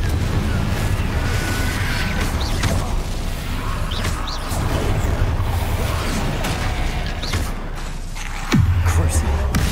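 The Confringo explosive spell cast in Hogwarts Legacy against Inferi: rumbling blasts and crashing game effects over a steady dense backdrop, with a voice talking over the action and a sudden heavy boom near the end.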